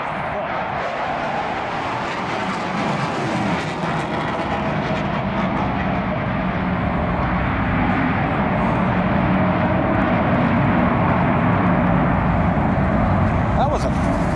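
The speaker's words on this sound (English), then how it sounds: "That was a fighter jet, really low." A fighter jet passes low overhead outdoors, a loud, steady broadband roar that holds for the full stretch and swells slightly toward the end, with a voice talking underneath.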